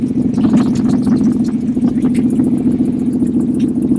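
A 1953 Chevy engine fitted with a four-barrel intake and headers runs at a steady idle with a strong, rumbling drone, close and loud throughout with no voices.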